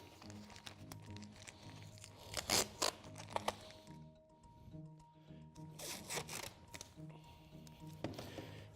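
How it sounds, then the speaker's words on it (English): Sticky tape is pulled off a roll and pressed down to join two bowls into a paper mache dragon form, giving crinkly rips and rustling bursts, close and quiet, with pauses between pulls. "Tape them together."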